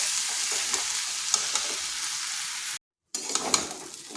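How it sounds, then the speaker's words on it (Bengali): Broken wheat (daliya) and moong dal are stirred into hot spices in a pan for vegetarian khichdi, giving a steady close sizzle with scraping stirs, briefly cut to silence partway through. "এরপর ভালোভাবে এই মশলার সাথে মিশিয়ে নিচ্ছি।"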